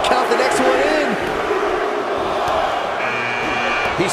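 Arena crowd roaring and cheering during a Men's Royal Rumble match in the WWE 2K18 wrestling video game, a steady loud wash of voices throughout with commentators talking over it.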